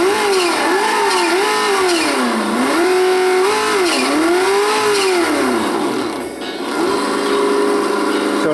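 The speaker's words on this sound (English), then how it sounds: "it's going full throttle backwards" A model four-cylinder race engine runs at full throttle in reverse and gives a loud, high buzzing whine. The pitch swells and dips repeatedly, drops briefly near the end, then holds steady.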